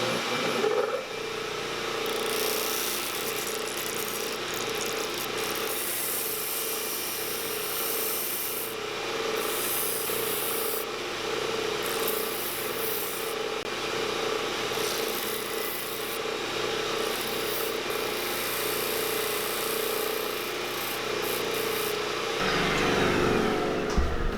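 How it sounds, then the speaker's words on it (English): Steady, close sanding of a thin tubalo wood jerkbait body, a continuous rough rubbing hiss that runs unbroken for the whole stretch with slight shifts in tone. "we're gonna sand our way to the line"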